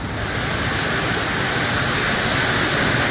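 Heavy downpour with gusting wind lashes a waterlogged rooftop terrace in Surat, an unbroken loud wash of rushing rain and wind with no voices.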